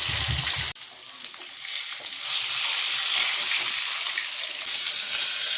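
Bhola fish fries in oil with a loud, steady hiss and crackle. It starts after a short thump and stays continuous and close throughout.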